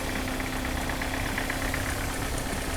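Idling engine of a 1982 Mercedes W123 230E warming up after its fuel distributor was rebuilt, a steady close, even hum with a faint regular knock throughout and no talk.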